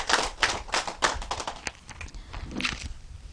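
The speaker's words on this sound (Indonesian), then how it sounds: "Kita beri aplaus untuk kelompok 4." A small group in an Indonesian community training session for parenting cadres gives group 4 a short round of applause. The claps are sparse and uneven, with a few hands tapping out an irregular rhythm that fades and briefly picks up again.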